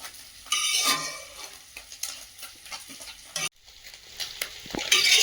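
Fried fish is lifted out of a pan of hot oil, with metal utensil scrapes and clatter over a soft sizzle in uneven bursts, close by.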